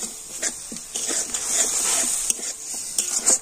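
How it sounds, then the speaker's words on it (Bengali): Coriander and cumin spice masala with a little water sautés in a pan, a constant bright sizzle under irregular scraping and tapping strokes of a spoon, close by and without talk. "একটু জল দিয়ে সমস্ত মশলাগুলো একটু ভালো করে কষে নেব"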